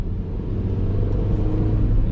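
Mini car driving on a winter countryside road, with a low, steady engine and transmission rumble and road noise filling the cabin at close range.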